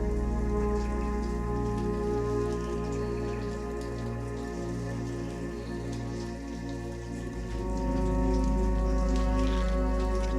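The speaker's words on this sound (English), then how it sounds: "Can you hear the water dripping?" Steady patter of water dripping and trickling in Cania Gorge National Park, a dense close wash of drops continuing without pause and growing a little fuller near the end.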